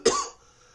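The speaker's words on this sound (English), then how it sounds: "normally I don't cough like that" A single sharp, close cough bursts out and quickly fades into quiet.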